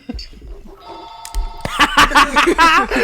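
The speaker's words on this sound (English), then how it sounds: "Can I answer the phone?" A telephone rings with steady tonal bursts in the first half, then several people start talking over the end of the ring.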